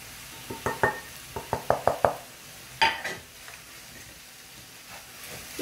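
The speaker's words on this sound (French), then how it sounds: "Et on mélange." Close clinks and scrapes of a spoon in a pot as mallow (khoubiza) is stirred with paprika, chili and cumin, a quick cluster of taps followed by a louder knock, then a quiet cooking hiss.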